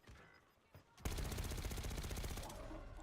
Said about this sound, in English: Fuck is shooting me?